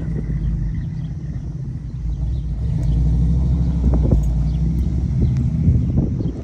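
A 1969 Chevy Camaro pulls off: a deep, steady engine rumble up close that swells louder partway through and holds a throaty drone, with no voices.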